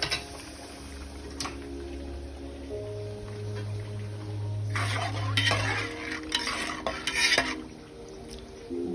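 Browned onion and green chili stirred into dal in a pan, with a spoon scraping and clinking against the metal amid a low cooking hum and a few louder stirring bursts toward the end.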